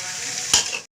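Goat meat frying in a pan while being stirred, a close steady sizzle with one brief scraping burst before it cuts off.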